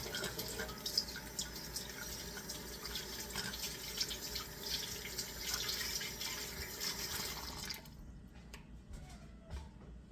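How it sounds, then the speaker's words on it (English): A tap runs steadily as hands are washed beneath it, broadband water noise holding for about eight seconds before the flow cuts off abruptly, leaving faint drips and quiet room tone. "Let me wash my hands and we'll get this going."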